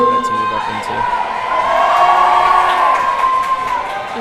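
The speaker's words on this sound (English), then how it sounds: "the crowd really getting behind Mej" A crowd at an international lead climbing competition cheers and whoops steadily, a dense, sustained roar that swells toward the middle, with a few voices shouting.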